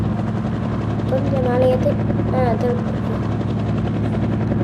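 Helicopter flying in the video game Indian Master Thief, a loud continuous rotor drone throbbing steadily throughout, with someone talking over it.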